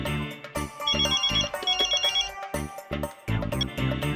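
Phone ringback tone on an outgoing call, a repeating electronic ring pattern of short bursts, fairly loud and alone with no voices over it.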